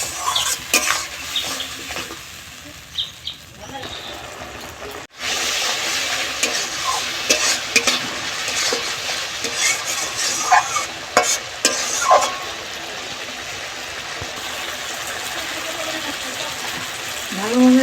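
Mustard paste masala with melted tomato being stirred and fried in a pan, producing loud, close sizzling with repeated spatula scrapes and clinks against the metal, a brief pause midway, and no voice heard.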